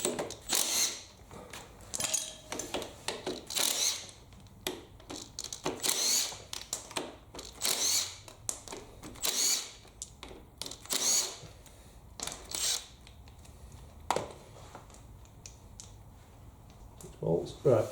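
Ratchet clicks and metallic taps as M8 bolts are undone on a classic Mini subframe, in short irregular bursts, fairly quiet, with a person talking over parts of it.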